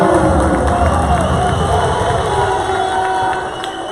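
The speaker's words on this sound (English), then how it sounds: "a raucous crowd here at East Penn Middle School" A packed middle school gym hosting college basketball, Central Penn College Knights against Cheyney, where a loud crowd roars and cheers continuously, a dense wash of voices that eases slightly toward the end.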